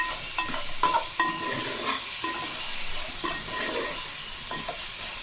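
Cucumber pieces fry with salt and chili powder in a pan for sambar, a loud steady sizzle broken by repeated scraping stirs, no talking.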